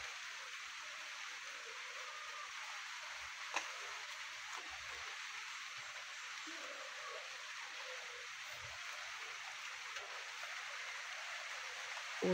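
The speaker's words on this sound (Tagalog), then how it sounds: "Ulan na naman po." Faint rain falls steadily in a soft, continuous hiss, distant and even, broken only by an occasional quiet knock.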